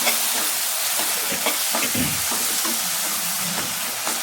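Chopped tomatoes sautéing in a pan for a mutton liver pepper gravy, giving a steady close sizzle and hiss with a few scattered stir scrapes, with no voices.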